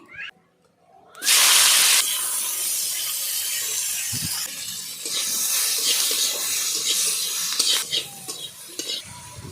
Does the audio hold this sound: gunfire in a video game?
no